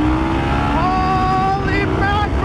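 Harley-Davidson Sportster S motorcycle accelerating hard in sport mode from about 2000 RPM, a loud, steady engine note rising in pitch as it pulls, close to the microphone with rushing wind.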